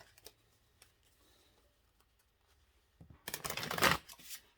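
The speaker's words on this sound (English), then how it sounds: "They want me to shuffle one more time." Near silence with a few faint taps, then a brisk burst of tarot cards being shuffled, close and fairly loud, lasting about a second.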